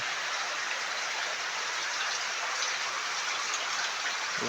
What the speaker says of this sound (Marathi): पाऊस भरपूर आहे गावाला